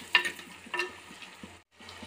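Tomatoes with softened onions sautéing in a pan for Tamil urundai kulambu, a soft steady sizzle with a few louder stirring scrapes near the start, briefly dropping out before the frying hiss resumes.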